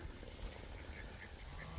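Ducks and geese quack and honk around a farm pond, a faint, continuous background chatter of fowl without speech.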